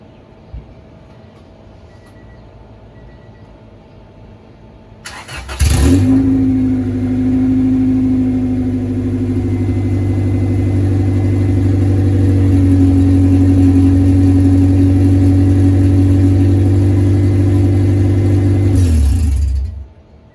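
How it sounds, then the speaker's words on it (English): A car engine with no exhaust fitted cranks and catches around five seconds in, then runs loud and close with steady harmonic drone and slight revving for about fourteen seconds before cutting off abruptly, alone without talk. "let's start this thing with no exhaust"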